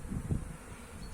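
A low, droning hum of honey bees at a hive with a couple of brief rustling bumps early on, fairly close, no talking.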